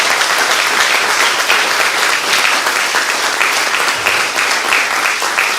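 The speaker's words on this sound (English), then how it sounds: "Let's give those boys a round of applause" Sustained applause from the audience at a school speech day for a group of boys, steady and loud throughout with no break.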